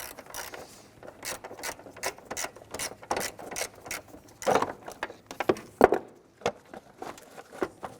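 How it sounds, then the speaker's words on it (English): An 8mm socket ratchet with an extension loosens a bolt on a Jeep Grand Cherokee battery tray, making quick, close, irregular clicking bursts of the pawl throughout. "Now we're going to use an 8mm with our socket and extension. Go ahead and remove that screw"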